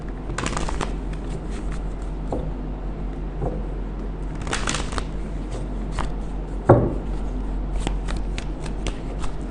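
Tarot cards being shuffled in the hands, a steady riffling and slapping texture over about ten seconds with a few louder bursts and one sharp knock, close up and with no talking.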